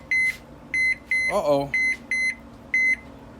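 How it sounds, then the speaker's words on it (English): Electronic alarm beeps repeat in short, evenly spaced bursts while cooking corned beef, with a brief spoken exclamation cutting in midway. "That's my alarm that it's going underneath."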